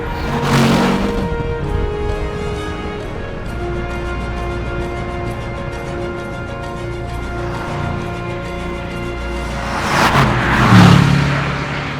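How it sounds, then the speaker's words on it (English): Bentley Continental GT V8 with a 4-litre twin-turbo V8 driving along, a steady engine drone with swells in loudness near the start and end, alone without talk. "This is the Bentley Continental GT V8, and as you can probably guess from the name, this has a 4-litre twin-turbo V8"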